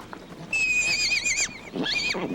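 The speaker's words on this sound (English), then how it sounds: "His pint-sized pal is Polo, a miniature Shetland pony" A miniature Shetland pony, one of the smallest horses, gives two loud, close whinnies with a wavering, high-pitched tremble, the first long and sustained and the second shorter, separated by a brief pause.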